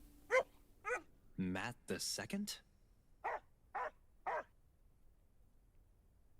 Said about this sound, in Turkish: Aa köpek.